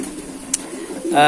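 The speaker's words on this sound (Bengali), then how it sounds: "পায়রাকে দিলাম পায়রাগুলো খাচ্ছে" Pigeons eating a mixed feed give a brief, soft coo under background noise, with a sharp click near the middle and a rush of louder noise at the end.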